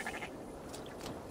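Sheep bleating in the video game Assassin's Creed Valhalla, a few wavering bleats close up over a steady hum of game ambience, with no talking.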